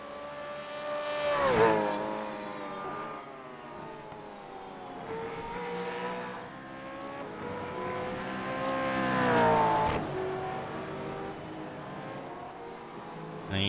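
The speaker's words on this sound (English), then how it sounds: "These Gen 3 cars sound fantastic out there." Gen 3 Supercars racing at Mid-Ohio in iRacing, engines revving loudly with rising and falling harmonic whine as cars pass and shift, sustained throughout with no talk.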